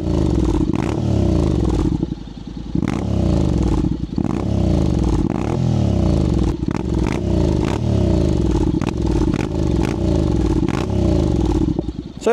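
Honda X-ADV 750 scooter fitted with a LeoVince LV Pro exhaust, held in neutral and revved repeatedly, each throttle blip rising sharply then falling back to a loud, close, raspy idle with no talking.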